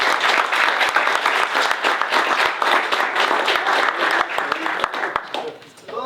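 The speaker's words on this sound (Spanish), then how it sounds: "despedimos con un fuerte aplauso" Loud, dense applause from a Demo Day audience sounds for about six seconds, many hands clapping at once, with some voices mixed in, before it tapers off near the end.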